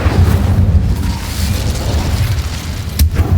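A fire spell cast in a Harry Potter video game bursts out as a dense, roaring boom that rumbles steadily for the whole stretch, with a sharper flare of crackling burst near the end.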